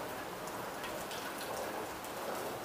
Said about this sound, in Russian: тут, видите, дождик такой противный